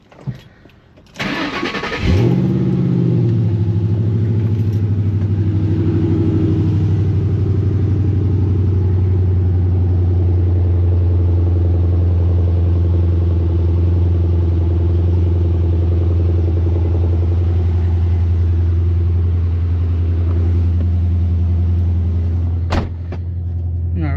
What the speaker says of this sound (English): Just gonna be a little cold start.